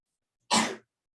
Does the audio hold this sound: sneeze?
yes